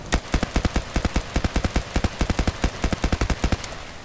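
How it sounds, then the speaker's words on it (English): Rapid bursts of gunfire from a weapon such as an MP5, AS-VAL or G53 in Battlefield Play4Free, loud and close, a steady string of sharp shots about eight per second with brief gaps between groups. "So now we're going to move on to close quarter tap firing."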